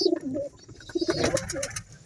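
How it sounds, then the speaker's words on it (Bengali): A pair of young Madras pigeons, male and female, coo softly and close by in a few short, throaty phrases with no other sound around them. "এটা হচ্ছে নোয়ার পায়রা এটা হচ্ছে মাদি পায়রা"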